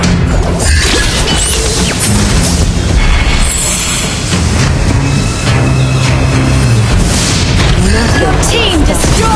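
A turret being destroyed in the mobile game Mobile Legends: Bang Bang, a loud, dense crash and booming blast layered over continuous game music and effects, with an announcer voice in the game mix.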